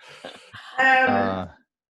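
A dog whimpers and yelps in a short burst, then lets out a longer, louder whining howl with strong harmonics, close by, in a quiet indoor setting without talk over it.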